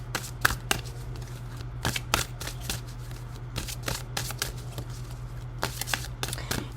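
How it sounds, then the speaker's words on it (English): Tarot cards being shuffled and pulled from the deck, a rapid series of crisp riffling flutters and snaps close by, repeating in quick bursts over a faint steady hum. "I'm going to pull 3 more cards."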